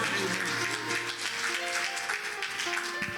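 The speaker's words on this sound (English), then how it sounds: "would you join me in giving a great big cheer as we transition this service over to Kids Super Church?" Church congregation at a live-streamed Christian Apostolic service cheering and applauding in a steady wash of claps, with sustained tonal music running underneath throughout.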